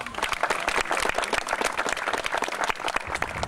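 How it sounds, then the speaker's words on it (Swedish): Audience at Länsmuseet giving a collective round of applause to museum staff, dense steady clapping from many hands, close and continuous throughout. "vi ger dem också en gemensam applåd"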